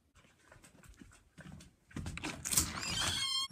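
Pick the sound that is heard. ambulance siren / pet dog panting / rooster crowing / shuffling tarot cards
pet dog panting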